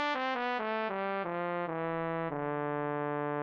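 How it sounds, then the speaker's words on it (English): Sustained synthesized trumpet patch from the Purity plugin plays a slow descending line of held notes, bright and brassy, each step lower than the last, steady and close with no talking. "we have the trumpet, which is going to sound like this."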